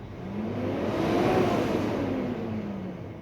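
FUSO 6M70 truck engine, suffering low power with CAN communication and EGR-related faults, revved at wide open throttle: a single smooth rise in pitch that swells, holds and then falls back, close and loud with no talk.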